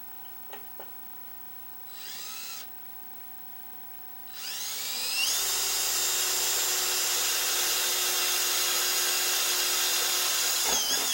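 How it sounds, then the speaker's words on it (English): A power drill bores through a metal seat mount plate on a car project: two short bursts of whirring, then a steady, loud, continuous drilling whine that runs to the end, with no talk. "just drill all the way through like that"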